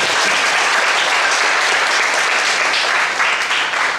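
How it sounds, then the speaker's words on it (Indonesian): Dense, loud applause from a school crowd at the closing ceremony of a student leadership training, continuous clapping filling the whole stretch without letup. "Tepuk tangan untuk kita semua"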